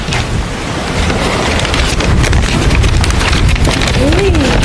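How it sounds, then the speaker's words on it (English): Outdoor wind buffets a microphone with a loud, continuous low rumble and gusty roar throughout, steady and close, with no clear speech over it. "It's a little windy here."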